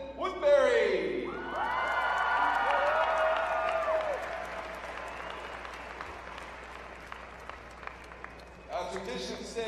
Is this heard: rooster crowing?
no